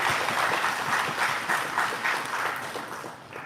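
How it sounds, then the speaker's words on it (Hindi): Audience at a Bihar government education department event applauding, with a steady wash of clapping that holds throughout at moderate distance, no voices over it. "इस पे भी तो ताली बजना चाहिए।"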